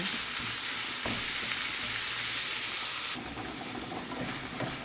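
Minced meat with parsley fries in a pan for hachis parmentier, a steady close sizzle with scraping stirs throughout; the sizzle drops slightly partway through and continues without talk.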